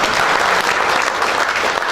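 A crowd at an official inauguration ceremony claps loudly and steadily, dense applause filling the whole moment without a break.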